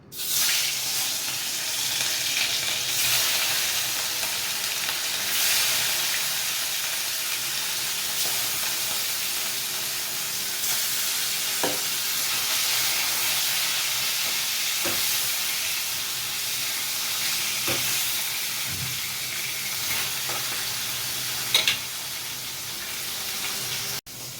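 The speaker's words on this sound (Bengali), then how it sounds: "এখন এই মাছটা একটু ভেজে নিচ্ছি" Katla fish pieces, rubbed with salt and turmeric, fry in hot oil with a steady, close sizzling hiss that holds for the whole stretch, punctuated by occasional small pops and crackles.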